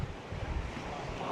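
North Sea surf breaking along an eroding English cliff coast, a continuous washing roar mixed with wind buffeting the microphone, heard alone.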